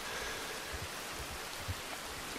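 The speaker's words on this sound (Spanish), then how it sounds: "está lloviendo acá en Pingüino de Punta" Steady rain falls in the video game Red Dead Redemption 2, a continuous soft hiss with faint low patter and no voices.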